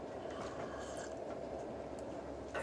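A passenger train rolls along the rails, heard from inside a carriage as a steady, dense rumble with faint rhythmic clatter throughout.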